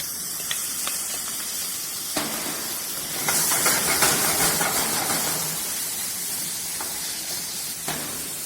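Ginger cooking in a pan gives a continuous hissing sizzle close by, swelling louder for a few seconds midway, with a few faint clinks over it.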